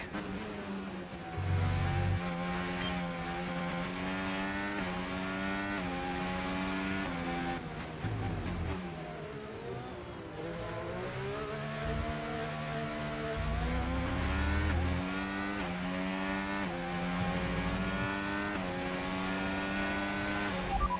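F1 race cars at a restart in F1 25 scream with high-revving engines, pitch rising and dropping through gear changes, a continuous loud onboard drone with other cars layered nearby.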